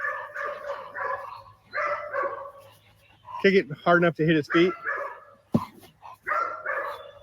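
Protection dog barking during bite-work training, a quick cluster of loud, sharp barks in the middle, with trainers talking before and after.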